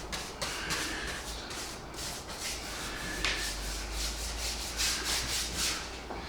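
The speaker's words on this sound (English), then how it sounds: "So I'm going to give a bit of a coat of paint, just to seal all the wood in" A paintbrush spreads a coat of paint onto bare wood for a model railway backscene, giving soft, repeated scrubbing strokes in an uneven rhythm, close and fairly quiet, with no talking.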